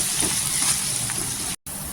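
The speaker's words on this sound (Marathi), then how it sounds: "कांदा पण छान इथं गोल्डन कलर करून घ्यायचा." Onion frying in hot oil with cumin and curry leaves gives a steady, close, bright sizzle and hiss that holds throughout, broken by one very short dropout.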